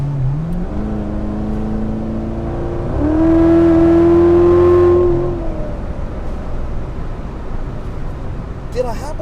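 A 2016 C7 Chevrolet Corvette Z06 engine in track mode, rising through a sharp rev, then holding a loud high-pitched roar for a couple of seconds and falling back to a steady rumble. A voice talks over the engine.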